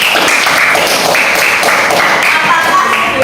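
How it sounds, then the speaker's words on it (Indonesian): Classmates in an elementary school lesson clapping for a student, a brief steady burst of brisk hand claps filling the room throughout. "Tepuk tangan untuk Mas Rifki"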